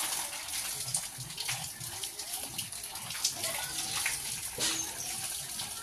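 Water pours down continuously with a steady splashing rush, fairly close and moderately loud, with no break throughout.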